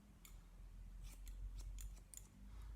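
Scissors snipping hair on top of the head during a men's haircut, several quick crisp clicks in an uneven rhythm, close and quiet over a low steady hum.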